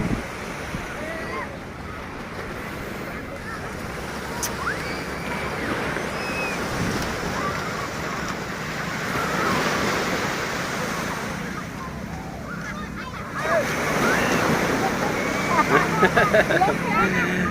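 Strong sea waves break on Otres beach in Kampong Som, a continuous roaring wash that swells louder near the end, with wind buffeting the microphone and people talking over it.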